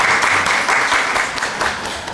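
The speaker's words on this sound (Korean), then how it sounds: "박수로 환영하도록 하겠습니다." Church congregation applauding to welcome visiting short-term mission guests during a Sunday worship service in Mexico; dense, steady clapping fills the hall, fairly loud and continuous with a slight fade toward the end.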